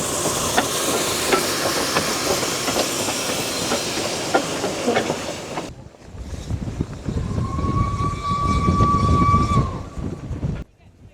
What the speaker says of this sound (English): Another WHR loco, so this is another Garrett, and this is number 87